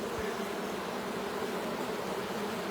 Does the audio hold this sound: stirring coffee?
no